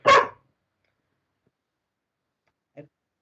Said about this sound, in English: because she won't stop barking if I don't let her out.